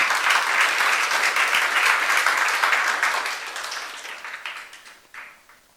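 A church congregation applauds in worship, a dense wash of many hands clapping that stays loud for several seconds, then thins and fades out with a few scattered claps at the end.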